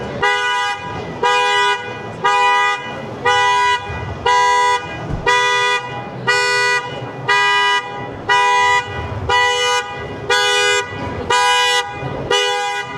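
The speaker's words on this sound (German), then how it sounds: "ich glaube, er liegt da auf der Hupe." A motorhome's car horn honks over and over in long, evenly spaced blasts, loud and insistent, with short gaps between each one.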